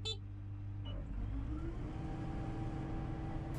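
Kubota Agri Robo DR6130A combine harvester running with automatic driving assist, a steady low engine drone and whir that continues throughout without any speech.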